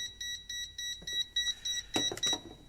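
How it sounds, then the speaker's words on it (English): A gas leak detector beeps in a quick repeating series of short, high electronic tones near a butane lighter, with a few louder broadband clicks and rustles mixed in toward the end. "Let's see if this gas leak detector will detect any gas coming out of there."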